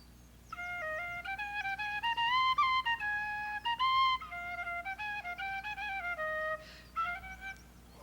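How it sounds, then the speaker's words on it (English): A tin whistle plays a lively Irish melody, played to summon leprechauns near Bushmills in Northern Ireland, with quick ornamented notes that run steadily for several seconds at moderate loudness. "So I'm going to try playing the whistle."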